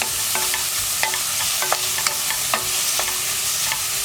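Chopped onions with half a teaspoon of salt fry and sizzle in a pan for kadala roast, a spoon scraping and tapping in an irregular rhythm over the constant crackle.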